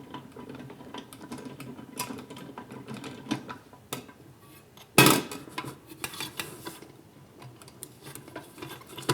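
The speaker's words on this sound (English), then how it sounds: "I think you can see down inside, the agitator is turning" A popcorn machine's agitator turns inside the kettle with a steady, soft mechanical rattling and clicking. One sharp, loud metallic clank lands midway, and no one speaks.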